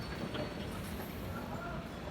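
A passenger train rumbles along, a steady low mechanical roar heard from nearby with faint clatter, under quiet background voices.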